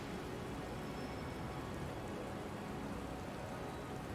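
Steady, dense rain falls on surfaces in the video game Born Punk, a continuous close hiss of drops with no pauses or voices.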